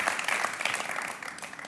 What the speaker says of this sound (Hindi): कम ऑन, जोरदार तालियां मिस्टर लक्ष्मीकांत के लिए।